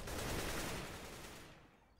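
A grenade goes off in the video game CS:GO: one loud, broad blast that rumbles and fades out over about two seconds.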